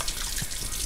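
Water runs from a household tap, a brief steady hiss and splash, close and moderately loud without any voices.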